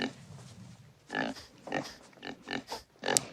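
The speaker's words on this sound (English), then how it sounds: "She has a pet pig." A pet pig in the film Misery (1990) grunts and oinks in a string of short, close snorting calls.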